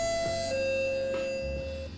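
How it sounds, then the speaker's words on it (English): A doorbell chimes in the Criminally Yours game, two clear tonal notes, the second held long and steady, ringing alone over a low hum of background music. "the doorbell rings not a second later"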